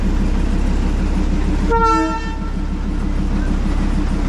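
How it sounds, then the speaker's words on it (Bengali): During an engine change at Kurseong station, a Darjeeling toy train locomotive idles with a steady low rumble, then gives a single short horn blast midway before the rumble continues. "আজকে ইঞ্জিন চেঞ্জ হচ্ছে"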